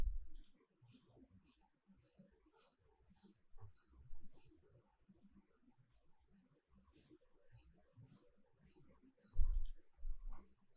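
Sparse, faint computer mouse clicks tap at irregular intervals while an image is downloaded in Canva, with a few louder bursts near the end.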